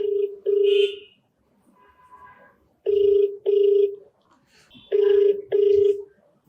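A telephone rings in three paired bursts of a steady electronic trill, loud and close, with brief faint murmurs between the rings.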